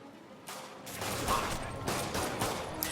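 Rapid bursts of gunfire from a Spider-Man video game, dense and sustained with repeated shot transients over a noisy mix, and a voice faintly present underneath.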